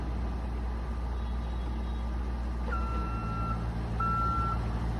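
A manlift being driven at a training site, its warning beeper sounding in two steady tones, the first starting near the middle and a second following a little later, over a constant low engine hum and background noise.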